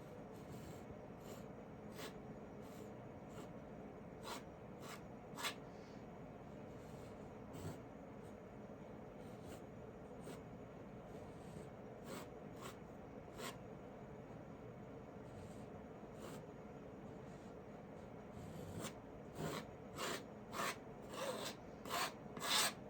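Repeated rasping scrapes of a tool clearing excess oil paint from a seascape painting, short strokes recurring at uneven intervals, close and fairly quiet, growing louder and quicker toward the end.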